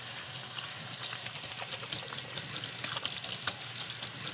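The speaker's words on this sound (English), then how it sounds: "wash your hands" A kitchen tap runs steadily while hands are washed with soap after handling raw chicken, with a continuous close splash and small irregular spatters as the hands move under the stream.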